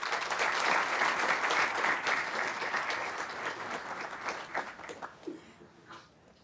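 A conference keynote audience applauds to welcome Federal Reserve Bank president Patrick Harker, a dense, even wash of clapping that thins and fades out at the end.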